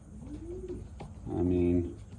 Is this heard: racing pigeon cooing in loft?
yes